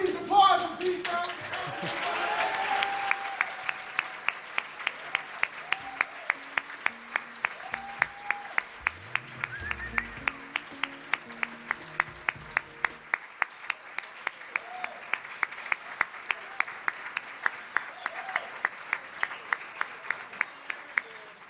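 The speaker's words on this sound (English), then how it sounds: "Please applaud as these families." An audience applauds steadily at a family recognition awards ceremony, with sharp claps repeating for the whole stretch and a brief murmur of voices early on.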